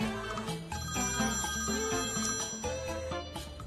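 Telephone ringing in a French-dubbed drama, a repeated electronic ring tone sounding loud and steady for several seconds with no voices.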